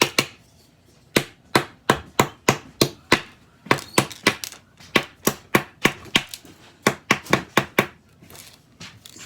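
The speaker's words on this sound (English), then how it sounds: "you're just gonna find something to smash them up with. Like a wooden spoon." Chocolate is smashed with a wooden spoon in a rapid series of sharp, close thuds, about two dozen hard knocks in irregular bursts with short pauses between, no talking.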